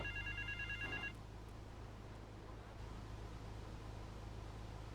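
A payphone rings in GTA 3 in South Belleville Park, a short electronic trill in the first second that cuts off and leaves only a steady low hum and faint background noise.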